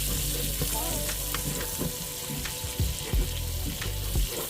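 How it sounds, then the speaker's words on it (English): A spoon scrapes browned bits from the bottom of a pot for butter masala chicken with chopped onion, the scrapes rasping through a loud continuous sizzle, close up. "I'm gonna scrape all those bits off the bottom."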